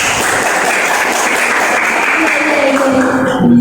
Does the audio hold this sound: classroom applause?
yes